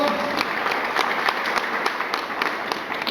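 Church congregation applauding in celebration, a steady stream of clapping with distinct claps standing out, moderately loud with faint voices beneath.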